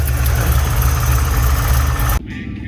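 A car engine, a Holden HQ set up for racing, runs loud and close in a steady rumbling idle that holds for about two seconds before cutting off abruptly.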